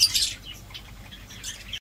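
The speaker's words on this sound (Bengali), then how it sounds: "কত পাখি এখানে।" Birds chirp outdoors in short, fairly faint bursts over steady low background noise, with a brighter cluster of calls at the start and another near the end.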